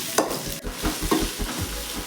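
Cubed capsicum shallow-frying in a pan for mushroom pepper fry, giving a close, steady sizzle broken by a few scraping stirs and thumps of the spatula, with no voices.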